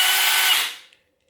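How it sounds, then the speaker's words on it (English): A handheld power drill whines loudly in reverse to back a rivet shaft out, running steadily for under a second before spinning down and stopping. "We're going to reverse this shaft back out now. We put the drill in reverse."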